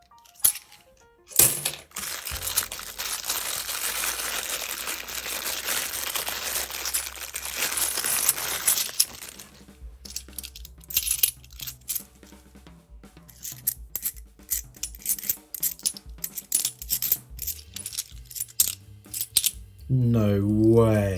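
£2 coins being handled and sorted during a coin hunt: a long run of bright metallic clinks and jingling, loud and dense at first, then sparser taps and clicks with pauses between them.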